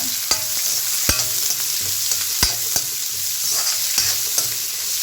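Small onions (shallots) fry in hot oil for a prawn gravy, a close, steady sizzle punctuated by a regular series of sharp spoon-on-pan taps and scrapes as they are stirred; no voices.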